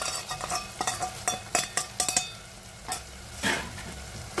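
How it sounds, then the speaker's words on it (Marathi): Spices sautéing in hot oil for a Maharashtrian black-eyed pea usal, with a steady sizzle and a series of sharp scraping stirs and utensil knocks, close and clear with no talking. "मसाले तेलावर परतून घेऊया"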